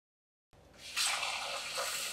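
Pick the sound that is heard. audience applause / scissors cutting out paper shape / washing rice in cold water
washing rice in cold water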